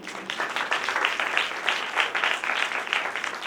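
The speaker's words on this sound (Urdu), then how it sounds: "تالی بجائیں گے بہن۔" A church congregation claps during a sermon, a close, dense burst of many hands with an uneven, lively rhythm that keeps going throughout with no talking over it.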